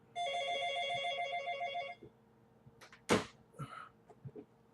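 A telephone rings in a home with a steady electronic trilling tone for nearly two seconds, then stops, leaving a few sharp knocks and handling sounds.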